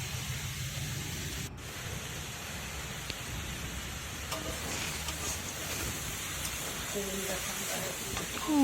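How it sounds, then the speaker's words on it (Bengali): Young jackfruit being stir-fried in a pan makes a steady, rain-like sizzle at moderate level throughout, with faint brief vocal sounds near the end. "ভালো করে কষিয়ে একদম ভাজা ভাজা করে নিতে হবে"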